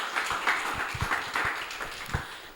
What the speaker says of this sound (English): A round of applause for Ndei Kumba Demba